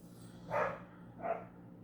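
Two short barks from dogs in another room, muffled and moderately distant, spaced about half a second apart over a low steady background hum.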